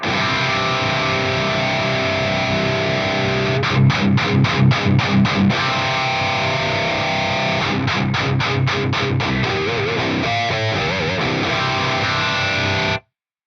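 Distorted electric guitar through an Axe-Fx III, chugging heavily palm-muted low notes in tight rhythmic bursts, with sustained crunchy chords between, loud and unaccompanied.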